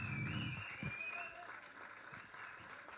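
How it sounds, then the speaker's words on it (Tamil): Audience applause at a film teaser launch event for an editor, heard as a steady wash of clapping that lingers under a speaker's amplified voice. "வசந்தகுமாருக்கு பெரிய கைத்தட்டல்கள் கொடுங்க"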